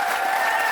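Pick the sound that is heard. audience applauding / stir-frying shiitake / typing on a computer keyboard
audience applauding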